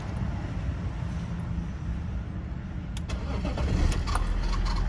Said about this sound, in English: this is what I was saying about starting the car after changing the filter